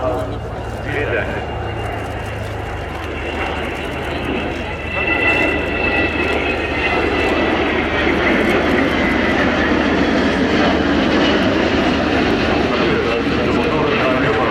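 Air Belgium Airbus A330 airliner in a showcase flight at the Sanicole International Airshow, a loud, steady broadband jet roar that swells after a few seconds and stays strong throughout.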